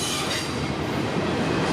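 Freight train 119 rolling past close by on a smoky day, a steady loud rumble of rail cars with faint wheel squeal and no voices.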